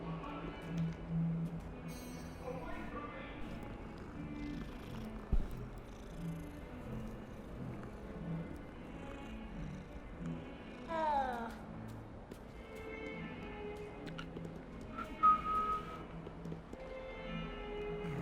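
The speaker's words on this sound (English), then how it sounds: "Random cat." A cat in the Hogwarts Legacy video game purrs softly, with a few brief meows over quiet game ambience and music, and scattered faint effects come through alongside.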